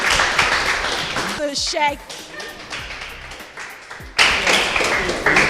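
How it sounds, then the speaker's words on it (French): A live audience claps and applauds at a French-language promotional prize-giving ceremony, the bursts of broadband clapping loud and near, rising at the start and again toward the end, with a presenter's voice and some tapping and thumps mixed in. "Alors on applaudit très fort pour lui."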